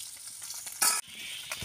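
Fish frying in a pan, a brief soft sizzle with a sharp louder hiss burst midway and a small pop near the end, no voices.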